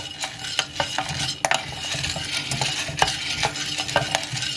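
Coffee beans from Timor, full-wash processed, crackle in a pan as they are stirred during manual roasting on a gas stove, with steady scraping and frequent sharp pops spread through the whole stretch.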